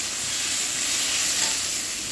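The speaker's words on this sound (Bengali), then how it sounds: "আরও ভালোভাবে আমি ভেজে নেব সবজিটাকে" Vegetables being sautéed in a hot pan give off a loud, even sizzle and hiss, close up and continuous, with faint stirring underneath.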